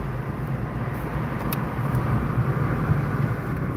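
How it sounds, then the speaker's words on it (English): Loud cars passing on a road, heard as a steady, heavy roar of traffic with a constant low rumble and no pauses. "your cars are a little loud there"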